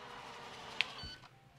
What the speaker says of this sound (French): Voilà, donc un petit bip se fait ressentir.